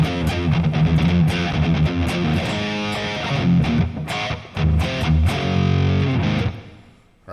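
Distorted electric guitar through a 6505-style amp rig with reverb added, loud, close riffing with sustained chords and brief pauses, the final notes trailing off into a reverb tail.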